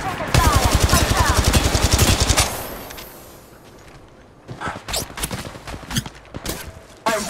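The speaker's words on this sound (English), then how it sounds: "They're shooting at me!" Rapid automatic gunfire from Apex Legends Mobile, a loud sustained burst for about two seconds, then a quieter lull before scattered shorter volleys and single shots return near the end.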